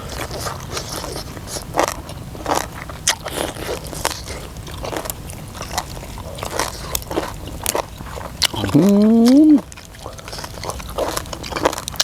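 Crunchy biting and chewing of soft, well-stewed beef tendon and cartilage, repeated close crisp crunches in a steady rhythm, with a brief voiced hum near the end.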